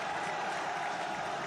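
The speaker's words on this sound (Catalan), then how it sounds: "Ara sí, aplaudiments de tots." An audience claps steadily at a festival reenactment of crossbowwomen retaking a tower, a dense, even wash of applause held at the same level throughout.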